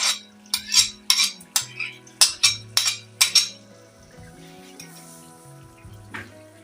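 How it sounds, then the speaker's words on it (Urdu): Hazara-style beef karahi with added yogurt is stir-fried in a pan, a metal spoon scraping and clinking against it in a quick run of sharp strokes over a steady sizzle, then the stirring slows to an occasional scrape. "اب اسے اچھی طرح سے بھون لینا ہے، دہی اس میں جم نہ جائے بس"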